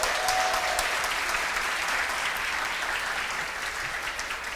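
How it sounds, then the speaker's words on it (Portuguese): A church congregation applauds together during a sermon, a sustained wash of clapping that holds steady and slowly thins toward the end. "Então, aplaudam o Senhor, recebam."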